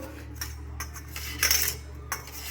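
Carrots rubbed against a hand grater for carrot halwa, a few scraping, clinking strokes close by, with a louder, brighter burst midway over a quiet kitchen hum.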